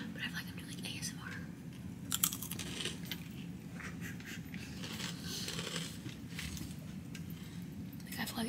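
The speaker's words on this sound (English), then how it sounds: "Like I feel like everyone can hear me eat." Someone eating hot pot at dinner, with close, soft chewing and small crunching and biting clicks scattered over a steady background, under a low, murmured voice.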